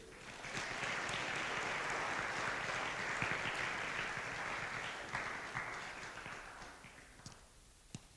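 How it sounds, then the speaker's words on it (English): At an all-school meeting, an audience breaks into quiet, fairly distant applause that swells quickly, holds for several seconds, then thins out and fades to a few scattered claps. "can we give a big hand of applause for you guys being here today?"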